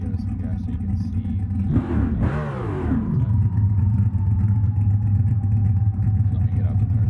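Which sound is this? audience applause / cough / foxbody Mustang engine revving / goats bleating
foxbody Mustang engine revving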